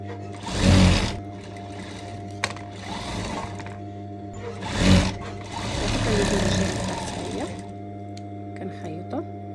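A sewing machine stitching the shoulder seams of a garment runs in several bursts of rapid whirring with pauses between them, close, while someone talks over parts of it.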